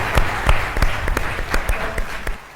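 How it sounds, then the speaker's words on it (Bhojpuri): A studio audience at a Bhojpuri talk show claps loudly in a dense, crackling burst of applause that swells in waves and fades out toward the end, with no speech over it. "और एक बार जोरदार ताली बजाई लोगन भैया खातिर"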